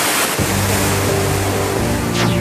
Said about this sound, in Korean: 물소리가 엄청납니다.